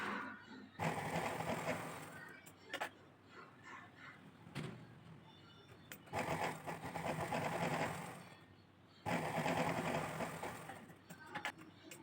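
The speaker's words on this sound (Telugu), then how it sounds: "ఇప్పుడు ఉక్సులు పట్టి అనేది మనం స్టిచ్ చేసుకుంటున్నాము." A sewing machine stitching the hook strip of a blouse whirs in three long bursts separated by short pauses, close and moderately loud, with a voice speaking faintly in between.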